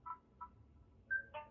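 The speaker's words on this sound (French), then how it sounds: "On entend que les 2 enceintes sont connectées." An ArtSound Lighthouse speaker pair plays its connection tones: a few short, quiet electronic beeps and a brief rising chime in quick succession, with no speech.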